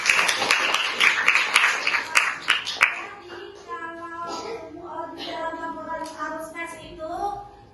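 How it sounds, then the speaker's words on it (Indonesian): Hands clap in a classroom during a bank reconciliation lesson, a brisk run of sharp, distinct claps for about three seconds before talking takes over. "Tepuk tangan"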